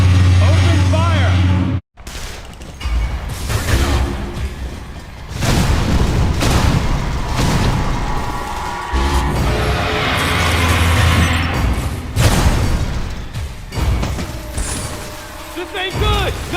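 Gunfire and heavy explosions from the action game Metroid Other M: repeated deep booms and blasts rumble loudly and almost continuously, with a brief silent gap near the start, while voices shout over the combat.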